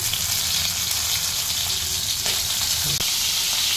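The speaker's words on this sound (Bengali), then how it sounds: "প্রথমে আমি ভাগে ভাগে চিংড়ি মাছগুলো ভেজে নিচ্ছি" Vigorous, continuous sizzling of prawns frying in batches in hot oil, loud and close, with a brief clink near the end.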